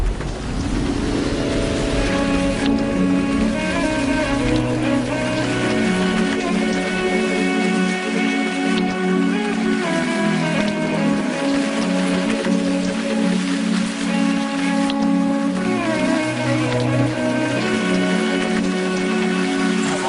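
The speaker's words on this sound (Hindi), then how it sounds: "बारिश हो रही है।" Steady rain falls in a continuous, even hiss that lasts throughout, with sustained musical tones layered over it and no voices.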